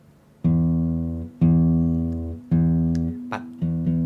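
Fingerstyle acoustic guitar notes plucked with a thumb rest stroke, four firm sustained bass-heavy notes at a steady interval, each ringing until the next, close and alone.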